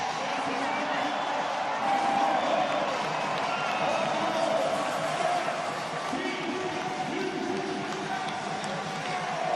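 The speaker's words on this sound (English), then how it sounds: "the home crowd are about to make some noise for Madison Hughes and co." A home crowd at a rugby sevens match in Los Angeles fills the stadium with a distant, steady roar of cheering and noise behind faint commentary.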